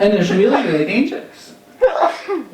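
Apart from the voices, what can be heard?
sneeze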